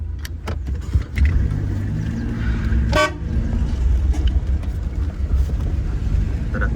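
A truck horn blares once, a short loud honk over a steady engine rumble and wind noise among trucks at a brick factory yard, with no speech.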